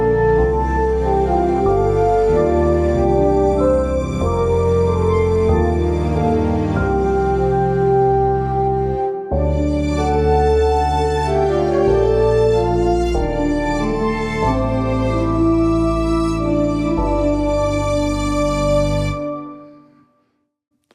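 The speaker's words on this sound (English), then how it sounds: "Here's the sound of that spread out with strings and orchestra." A harmonized epic melody spread across strings and full orchestra, sustained chords shifting beneath a rising line, a brief pause near the middle before the swell resumes, then fading out at the end with no voices.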